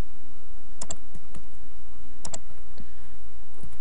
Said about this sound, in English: So we'll type that.